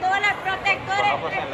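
Bustle of a packed open-air street market in El Salvador, a steady murmur of many voices and footsteps close around, with a voice talking over it.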